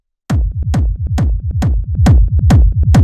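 A dry techno pattern: a booming kick drum on a steady four-count with a short, plucky bass note bouncing between each hit, clean and upfront.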